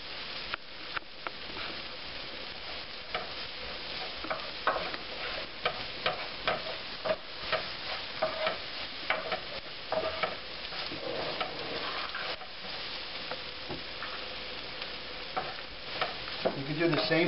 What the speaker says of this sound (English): You want to mix that up nice, almost like a roux.